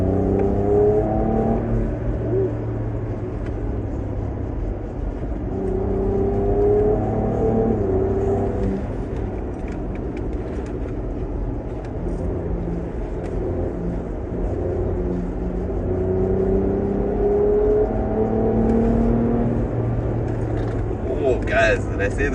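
Ford Ranger Raptor pickup truck driven hard around a race track in Zimbabwe, its engine droning steadily and rising and falling through gears for the whole stretch, with voices talking over it.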